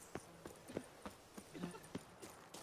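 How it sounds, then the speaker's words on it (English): Horse hooves clip-clopping in a quick, regular galloping rhythm in the video game The Witcher 3: Wild Hunt, fairly faint and close, with no talking. "Even a horse drops if you ride it at a constant gallop."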